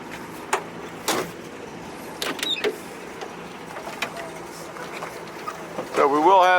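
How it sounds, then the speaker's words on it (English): Windows on a 1958 Rambler Cross Country Wagon, which has no air conditioning, being cranked, with soft intermittent mechanical clunks and creaks and a brief rising squeak near the end. "So we will have these windows down on the test drive, but they all do go up and down just like they should"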